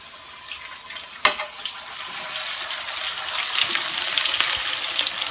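Callaloo fritters sizzle in a shallow layer of bacon oil in a frying pan on a high electric stove, a steady hiss that swells louder after a single sharp knock near the start, with no talking.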